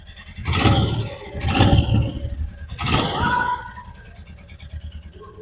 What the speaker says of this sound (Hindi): इंजन साउंड भी चेक कर लीजिए आप।